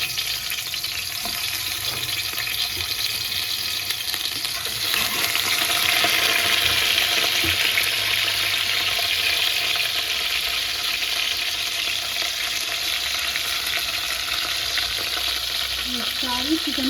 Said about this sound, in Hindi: उसमें डालूँगी मैं तकरीबन ये 2 चम्मच ऑयल और इसके साथ ही इसमें मैं ये सारी चिकन को फैला दूँगी।